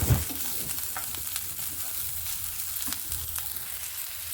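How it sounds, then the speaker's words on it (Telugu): Onion pieces fry in hot oil with cumin seeds and mustard seeds, giving a steady, soft sizzle with faint crackles and a brief clatter at the start, no talking. "ఒక చిన్న స్పూన్ జీలకర్ర, ఒక పావు స్పూన్ ఆవాలు వేసేసుకొని ఈ ఉల్లిపాయ ముక్కల్ని ఫ్రై చేసేసుకుందాం"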